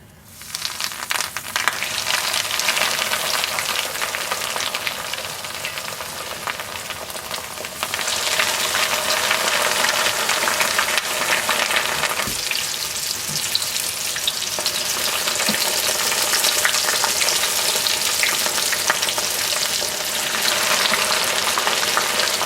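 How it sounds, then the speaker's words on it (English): Breaded venison steaks fry in hot oil held around 350 degrees, a loud, steady, dense sizzle that crackles without a break and swells a little after the first few seconds, with no voices. "Let's drop these steaks in."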